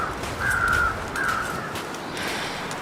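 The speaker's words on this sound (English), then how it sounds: "You see some crows circling." Crows cawing in The Long Dark survival video game at Desolation Point, circling overhead: two drawn-out, fairly distant caws over a steady windy ambience, no speech.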